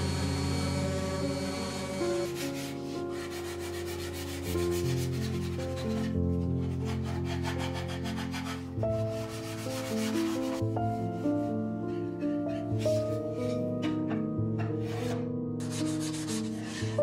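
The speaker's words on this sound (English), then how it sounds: "After drying, it's ready for final sanding." Final sanding of a wooden box with boxwood-jointed corners, a continuous close rubbing texture in long strokes, heard beneath steady tonal background music that carries throughout.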